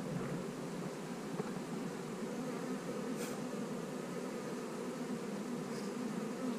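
Honey bees buzzing at an open beehive during hive splitting, a steady dense drone from many insects close by with no talking.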